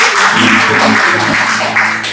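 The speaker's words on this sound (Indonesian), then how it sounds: "Berikan tepuk tangan dulu." Sustained, loud applause from an audience at a church seminar in Bandung, welcoming the treasurer, with steady dense clapping filling the whole stretch and no talk over it.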